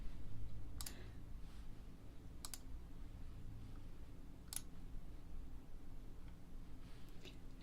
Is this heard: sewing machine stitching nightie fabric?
no